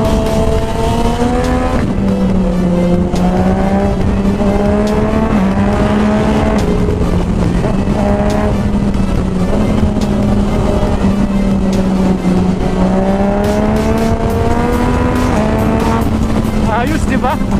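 A Yamaha MT-09 motorcycle engine hums and rises and falls in pitch as it revs, loud and close, with wind noise throughout.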